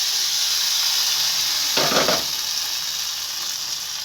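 Hot tempering poured into mango pulissery sets off a sudden loud sizzle lasting about half a second, then fading into a soft steady hiss.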